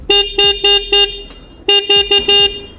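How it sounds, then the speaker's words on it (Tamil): Two bursts of short horn beeps from a Bajaj Pulsar N160 motorcycle, four quick toots each with a brief pause between groups, loud and close with a faint engine hum underneath. "ப்ளஸ் வந்து இங்கே ஹார்ன்"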